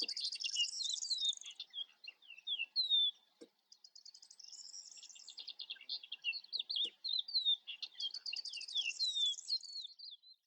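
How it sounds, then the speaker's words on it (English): A crested lark sings alone, a bright, rapid stream of high chirps and whistled trills in bursts with short pauses, fairly close. "Would you like to hear a crested lark?"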